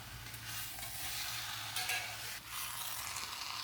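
Chicken pieces and masala are stirred in a pot with a soft, continuous sizzle and scraping, fairly quiet and close, with no talk.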